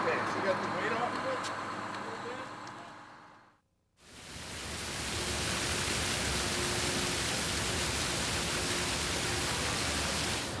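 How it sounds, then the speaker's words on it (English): Broad steady hiss of falling water from a fountain in an outdoor plaza after a brief pause, continuous and fairly loud, following a stretch of quieter ambient sound. "you hear the water and you see the glistening drops and you feel the freshness"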